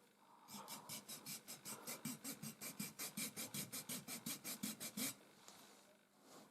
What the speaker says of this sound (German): Also diese Hornhautraspel ist für sehr viel Hornhaut geeignet